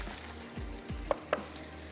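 Blended saag with spices sizzles softly in a pan on the stove, a faint steady frying hiss broken by two quick clicks of a spoon stirring.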